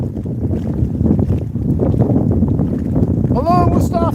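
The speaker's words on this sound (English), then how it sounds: "And it is crazy, crazy windy." Strong gusts of wind batter the microphone on a fishing outing, a loud low rumbling roar that surges and dips throughout, with a brief chirping sound near the end.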